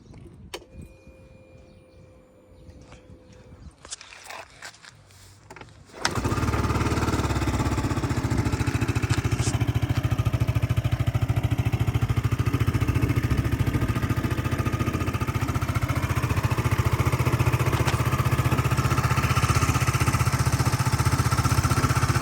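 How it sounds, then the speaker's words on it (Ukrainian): A Yamaha Cygnus X 125 scooter engine starts after some quiet handling noises and then runs steadily at idle with a deep, even, bassy putter for the rest. "Працює двигун чистенько, без ніяких зауважень, без, без питань абсолютно. І такий басистий звук."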